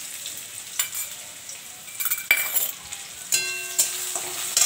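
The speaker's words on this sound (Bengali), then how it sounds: "লঙ্কা, সর্ষে, কালো জিরা ফোড়ন দিচ্ছি, পেঁয়াজ দিচ্ছি" Mustard seed, black cumin and chili crackle in hot oil with onion and a little garlic, a steady sizzle broken by sharp pops and clinks of a spoon stirring the pan, close and moderately loud.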